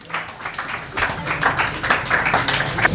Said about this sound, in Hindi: जोरदार तालियां तनुज जी के लिए